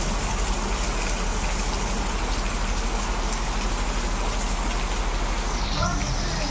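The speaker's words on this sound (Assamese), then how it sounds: "বাপৰে বাপ বৰষুণ পৰি আছে" Heavy rain pours down outside during a power cut, heard from indoors as a dense, unbroken wash of hiss and patter that holds at an even level throughout.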